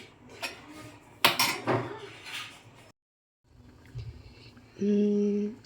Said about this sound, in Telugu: మీడియం ఫ్లేమ్లో పెట్టి లిడ్ పెట్టేసుకోండి.